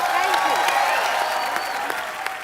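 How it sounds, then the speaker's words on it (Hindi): An audience claps loudly and steadily, a dense burst of applause that fades slightly toward the end. "जोरदार तालियां"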